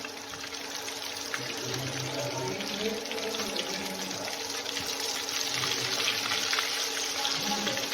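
Potato cutlets frying in hot oil, a steady dense sizzle and crackle running continuously at close range with no talk over it.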